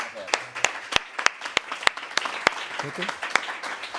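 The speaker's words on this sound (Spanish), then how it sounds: "despidamos a Carlos, Ana y Sabino, citándolos para la tarde, con un aplauso y muchas gracias" At a literary event's opening, the audience breaks into applause, with a few sharp, close, distinct claps in a steady rhythm over a softer spread of clapping.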